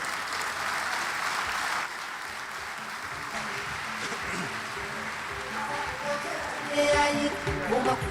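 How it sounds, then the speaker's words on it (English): Applause from an audience at an award night, a diffuse wash of clapping across a large hall that swells toward the end, with voices speaking over it. "Please, one more time, a round of applause for him."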